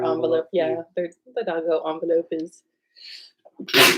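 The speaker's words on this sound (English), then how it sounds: "Only one sneeze that time." A single sharp sneeze bursts out close to the microphone after an adult finishes talking in a conversation between a couple, loud and abrupt at the end.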